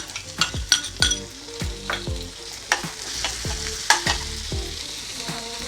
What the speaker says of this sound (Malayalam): ഇതൊന്ന് നല്ലപോലെ നമുക്ക് വഴറ്റിയെടുക്കാം നല്ലതുപോലെ വഴറ്റണത്